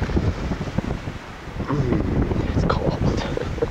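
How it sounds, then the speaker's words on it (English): A 30 mph wind gust during a blizzard in Derry, New Hampshire roars loudly and continuously across the microphone, a dense rushing buffet with no break. "Oh, that's a 30-mile-an-hour wind gust."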